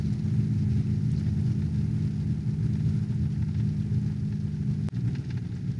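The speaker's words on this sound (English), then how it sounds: "definitely using the engine brake coming down the hill here" A 2019 Ram HD pickup towing a trailer engine-brakes down a snowy hill, giving a steady loud low rumble that drones without a break, with one brief dip near the end.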